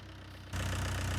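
A tractor engine idles in Farming Simulator 19, a low rumble that jumps suddenly louder about halfway through and then holds a steady, throbbing drone.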